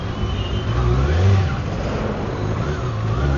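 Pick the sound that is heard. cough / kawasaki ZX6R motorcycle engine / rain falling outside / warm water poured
kawasaki ZX6R motorcycle engine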